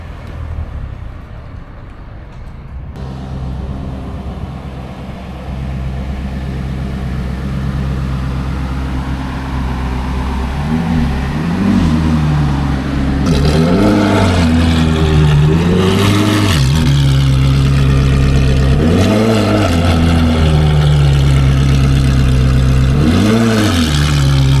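An old Ferrari engine idles with a deep, loud burble on a Tokyo street, then is revved repeatedly in sharp rising-and-falling bursts over the steady idle.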